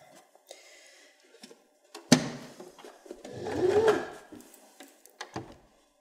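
A home sewing machine stitching over a piece of fabric for a dog snuffle mat, a sharp clack followed by a brief mechanical whirring run, then a few light taps in a quiet room.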